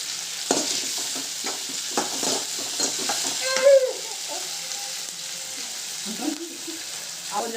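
Anchovies sizzle with rock salt in a hot pan as a spatula stirs and scrapes at close range, the frying steady throughout with a short voice heard partway.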